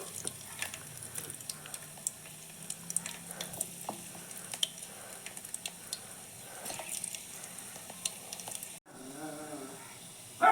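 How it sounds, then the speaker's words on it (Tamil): Onion, ginger and garlic frying in a pan give a soft, steady crackling sizzle that continues with some faint clinks, before a short break and a brief voice near the end. "நல்லா செவந்து பொறிஞ்சி வரட்டும்"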